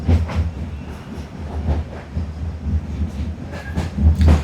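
A tourist train running through forest between Mailani and Bichhia in Dudhwa National Park, with a steady low rumble and rhythmic clatter of wheels on track, continuous and fairly close, no voices.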